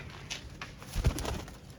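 A female pigeon gives a low, soft coo close by, a brief throaty murmur rising once and fading.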